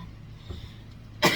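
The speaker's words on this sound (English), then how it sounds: "a sneeze and a cough" A sharp, broadband burst near the end after quiet low rumbling; a single short sneeze or cough, close and loud.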